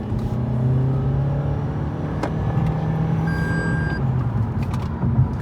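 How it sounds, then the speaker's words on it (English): Toyota Camry Hybrid 2023 facelift under hard throttle, a steady low engine drone with a gentle rising note, sitting near and moderately loud throughout, with faint high electric whines and a short tonal beep partway. "when you go hard on the throttle, right, it makes that grunt."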